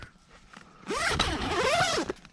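A long zipper on a TideWe Occult hunting blind is pulled in one steady, close drag lasting about a second, the teeth rasping loudly with no voices.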